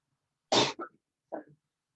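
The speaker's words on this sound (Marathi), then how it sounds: "फार खोकला झालाय." A person coughs sharply once, then gives a shorter second cough a moment later, close and clear with silence around it.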